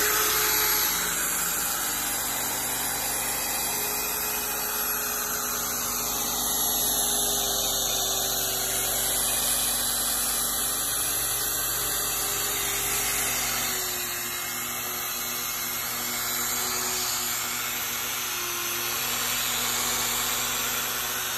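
Buffing polisher running steadily across an MDF countertop, a continuous whirring motor drone with a slight rise and fall in pitch, close and loud throughout with no talking.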